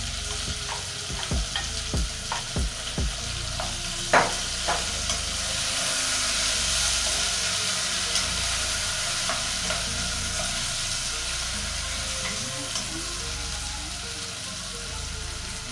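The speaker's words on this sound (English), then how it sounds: "Now if the beef is ready, let's add our tomatoes." Beef and tomatoes sizzle steadily in a frying pan during cooking of kales with beef, with a few sharp stirring scrapes and clinks early on, then a continuous close frying hiss with no talking.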